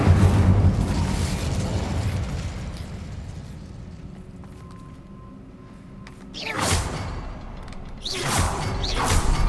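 The Incendio fire spell being cast in the video game Hogwarts Legacy, heard as a roaring burst and fiery whoosh that fades, then two more loud swelling blasts of flame near the end.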